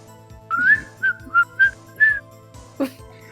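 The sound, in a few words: whistling in the video game Phoenix Wright: Ace Attorney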